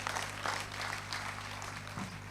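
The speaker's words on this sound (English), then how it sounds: "Please, let's give them a resounding applause." An audience claps at a plenary session, a fairly faint, steady patter of applause heard from a distance with a low hum underneath.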